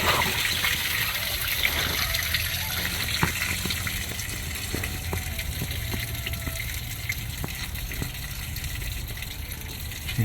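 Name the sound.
coolant draining out of a 1985 Monte Carlo radiator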